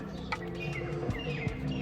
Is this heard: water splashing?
no